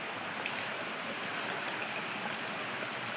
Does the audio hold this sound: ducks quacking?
no